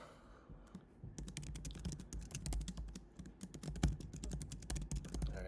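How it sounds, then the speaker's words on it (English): Rapid typing on a computer keyboard, close and clear, with irregular bursts of sharp key clicks and clacks and a few louder strikes, no voices. "You might hear my typing."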